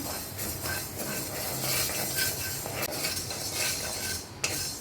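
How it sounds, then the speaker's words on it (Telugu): Fenugreek seeds dry-roasting in a pan, stirred with a big spoon, giving a steady scraping rattle and occasional metallic clinks of spoon against pan, close and continuous, no voices. "పెద్ద స్పూన్తో 1 స్పూను మెంతులు, వేపుకుంటున్నాను"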